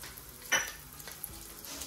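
Cumin seeds frying in coconut oil in a pan, a quiet sizzle with one brief sharper crackle and a faint tick of utensil contact.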